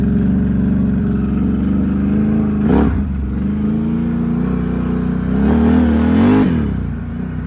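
A Can-Am Renegade ATV's engine runs steadily while riding around a curve with light throttle, holding a continuous mid-pitched drone that swells briefly twice as the rider adds power.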